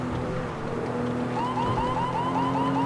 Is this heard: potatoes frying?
no